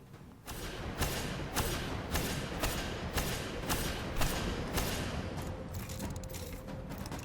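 The Thorn hand cannon from the video game Destiny fires a steady series of about a dozen heavy, booming shots at a regular pace, loud and close, with dense rumbling tails between shots.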